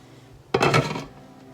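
Wooden or metal spoon stirring a pot of hot-process rebatched soap, a short scraping burst of thick paste against the pot lasting about half a second, close and moderately loud, then fading.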